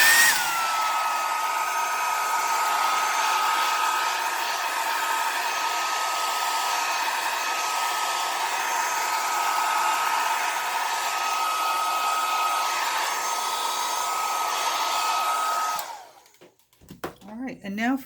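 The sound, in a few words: hair dryer drying alcohol ink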